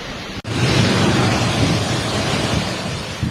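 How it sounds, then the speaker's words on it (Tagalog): Storm surge waves crash onto the shore in a Catanduanes seaside town during Super Typhoon Uwan, a loud continuous roar of surf mixed with heavy wind buffeting the microphone. "Halos lamunin ng naglalakihang daluyong o storm surge ang mga bahay sa tabing dagat sa bayan ng Higmoto."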